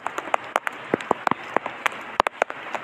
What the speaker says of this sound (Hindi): ये देख सकते हैं बारिश इस वक्त कैसी टाइट हो रही है